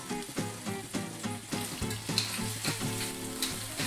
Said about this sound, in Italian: possiamo girare la fettina di vitella dall'altro lato per continuare la cottura